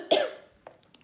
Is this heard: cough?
yes